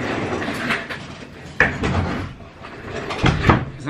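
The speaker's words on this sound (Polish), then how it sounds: "Ja zamknę drzwi" A door being closed indoors, with soft handling noises followed by a sharp knock of the door shutting and a later clunk, moderately near and without talk.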